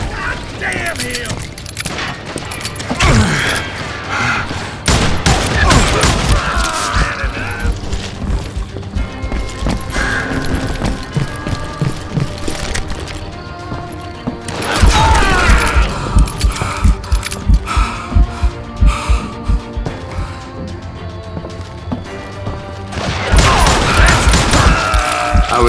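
Bursts of gunfire in the Western shooter Call of Juarez Gunslinger, clusters of sharp shots separated by quieter stretches, loud and close, with voices and game sounds in between.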